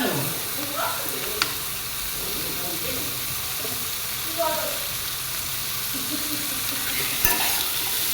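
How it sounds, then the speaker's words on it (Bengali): Chicken pieces with onion frying in a pan, a steady close sizzle with occasional stirring scrapes and clinks, and low voices faintly underneath. "চিকেন আর পেঁয়াজটা একটু ফ্রাই করে নিয়ে তারপর সবজিগুলো এর সঙ্গে অ্যাড করে দেবো"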